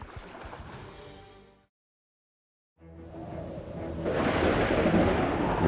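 A violent storm with thunder on the sea threatens a ship, heard as deep rumbling that cuts to a moment of silence, then returns as a swelling roar of wind and rain that grows louder toward the end.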